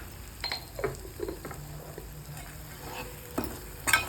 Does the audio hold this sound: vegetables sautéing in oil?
yes